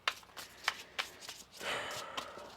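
Tarot cards shuffled by hand in a quick series of crisp riffles and taps, ending in a longer riffle, close and alone.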